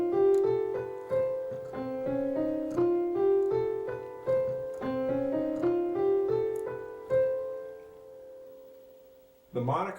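A Neapolitan major scale in C is sung or played as a sequence of distinct sustained notes stepping upward and back down, clear and close, followed by a short burst of another sound at the end.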